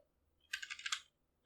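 A short burst of computer keyboard typing as a terminal command is entered, a quick run of crisp key clicks lasting about half a second against near silence.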